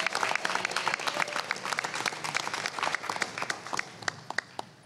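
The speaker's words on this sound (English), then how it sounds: "let's everybody give a round of applause to our council president." Scattered applause from a modest audience at a skilled trades task force meeting greets the council president, individual claps distinct and uneven, fading toward the end.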